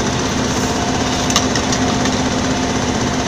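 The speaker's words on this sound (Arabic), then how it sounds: "يجب أن يكون المحرك مشتغل، وتكون السرعة دورة المحرك على الأقل 1300 درجة" A car engine runs steadily at raised revs, around 1300 rpm, during an automatic gearbox oil level check, giving a continuous near hum with a faint whine and no pauses.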